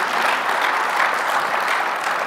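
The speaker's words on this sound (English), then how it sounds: "So huge round of applause for Jeff and Thomas for that phenomenal presentation" Dense, loud applause from a conference audience fills the room after a healthcare presentation, a sustained even roar of many hands clapping together.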